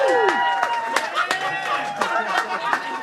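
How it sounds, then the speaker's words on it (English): A small live audience gives a round of applause at an art show: a handful of sharp, fairly evenly spaced claps ring out over steady crowd chatter and a speaking voice. "Give him a round of applause"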